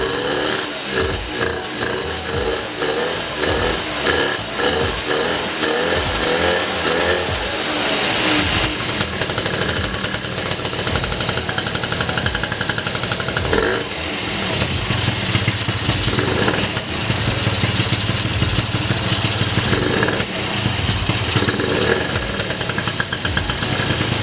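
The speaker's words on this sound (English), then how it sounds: "here's the first initial startup with the new carburetor" A Bosozoku scooter with a newly fitted carburetor starts up and idles loudly and close by, its rough, uneven engine note running throughout with occasional revs and no talking.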